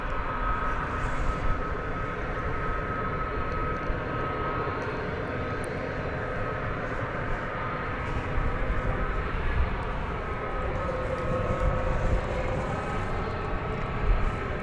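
An American Airlines Airbus A321 arrives from Las Vegas at Dallas Fort Worth airport with a sustained, moderately loud jet rumble and whine, rising and falling slightly as it passes.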